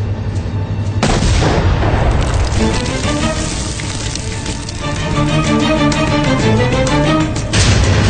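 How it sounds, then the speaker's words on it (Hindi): A hand grenade going off in a combat scene, a loud booming blast that rolls into heavy rumbling and crackling debris noise, then a second burst near the end, with no speech. "हैंड ग्रेनेड है, लेट जाओ।"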